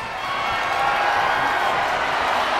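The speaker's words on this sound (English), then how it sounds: "Listen to this crowd count the next one in" A wrestling video game arena crowd in WWE 2K23 roars in a steady, dense wash of cheering, a constant sustained crowd bed with faint whoops mixed in.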